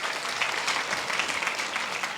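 Church congregation clapping for the Lord during a Sunday service, a continuous even wash of applause without speech.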